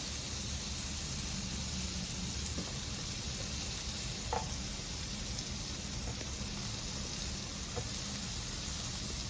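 Garlic bread toasting in a very hot pan, giving a steady, even sizzle and hiss throughout with a faint tap or two, moderately quiet and with no voices.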